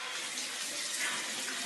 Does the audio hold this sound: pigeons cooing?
no